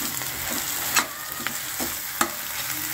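Onions are frying in oil in a pan for a stuffed Kolhapuri masala eggplant dish. A continuous steady sizzle is broken by a few sharp stirring taps and scrapes from a spoon, with no talking.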